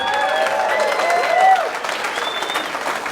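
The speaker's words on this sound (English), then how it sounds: "Applaud for yourselves" Comedy club audience applauding after the comic's urging, a dense wash of clapping and a few whoops that swells and then eases, fairly close and continuous throughout.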